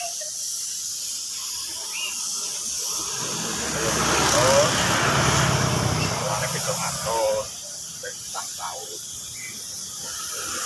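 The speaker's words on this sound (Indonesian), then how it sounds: "kita semproti clear seperti ini" A spray gun lays clear coat over the rear body of a Mio motorcycle freshly painted candy red, a soft hiss that swells for a few seconds near the mic and then cuts off, with faint murmured voice sounds around it.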